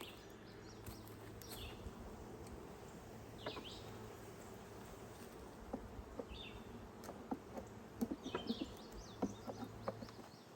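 Registered honeybees from packages buzz steadily around newly set-up beehives, a dense low hum with occasional closer passes of individual bees growing louder near the end.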